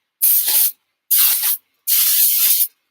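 An aerosol spray can hisses in three strong bursts inside a spray box, each lasting about half a second to a second with short pauses between, loud and close, no voices.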